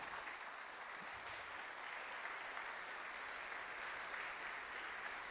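A church congregation applauds in a steady, diffuse wash of clapping that sounds fairly distant and faint and keeps an even level throughout, with no speech over it.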